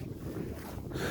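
Steady, blustery wind roars against the microphone on the Küçük Kartepe summit in Kocaeli, a continuous low rumble with gusts swelling louder toward the end.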